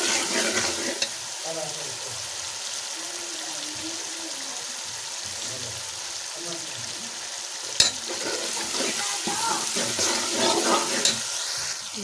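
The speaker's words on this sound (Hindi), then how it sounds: "पानी का छट्टा लगा के अच्छी तरह से इसको भून लें।" Masala sizzles and crackles steadily as it is stirred and fried in ghee after a splash of water, with a continuous hiss and occasional scrapes and taps from the spoon. A few brief louder clinks stand out near the end.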